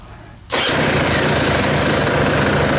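A KTM 300 motorcycle engine, newly fitted into its frame, is started with the electric button and choke. It catches abruptly after a short quiet moment and settles into a loud, close, steady idle with no voices.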